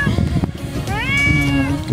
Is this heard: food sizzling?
no